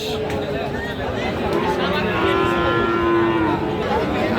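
Friesian and cross-breed bull calves at a busy Bangladeshi cattle market moo in long, drawn-out calls over a steady crowd babble and chatter.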